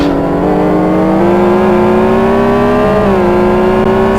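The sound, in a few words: race cars lapping in GT1 racing video game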